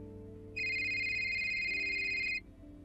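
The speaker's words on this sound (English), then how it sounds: "my phone began ringing" A phone ringtone plays once as a steady, bright electronic tone lasting about two seconds, then cuts off, heard over a low background hum.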